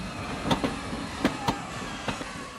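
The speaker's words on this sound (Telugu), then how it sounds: "అయ్యో ట్రైన్ స్టార్ట్ అయింది" A train pulling away from a station platform, with a steady rumbling wash and a few sharp clanks and clacks spaced irregularly over it.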